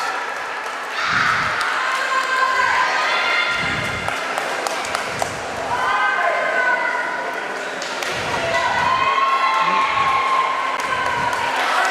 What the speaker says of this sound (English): you see all the kids are up, all the kids are cheering. The parents really get into it as well